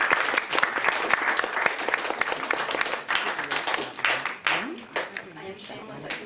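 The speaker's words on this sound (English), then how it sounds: "you can clap if you want to" Audience clapping for a Haida singer, storyteller and drummer, with sharp individual claps at first building into scattered applause that thins out, while a voice talks over the later part.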